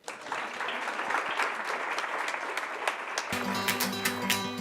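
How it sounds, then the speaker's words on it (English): An audience claps steadily for several seconds, a dense patter of many hands, before music with a strong beat cuts in near the end. "Round of applause, everybody."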